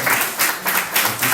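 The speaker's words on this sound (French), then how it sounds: "Si on peut applaudir pour accueillir la joie du Seigneur" A church congregation applauds to welcome a first-time visitor, steady loud clapping from many hands throughout, close and continuous.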